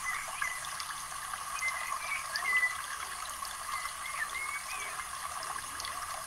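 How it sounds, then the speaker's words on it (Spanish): Soft, continuous trickling and bubbling water sits within gentle relaxation background music, an even, calm wash of sound with faint scattered tones and no talking. "música de fondo para la relajación con sonidos del agua"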